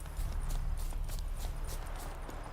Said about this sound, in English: I'm gonna keep running and see if the horse catches up to me.